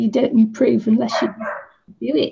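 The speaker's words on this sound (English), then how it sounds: "Sorry about my dog." A pet dog barks and yips a few times in a home, mixed in with a person talking nearby.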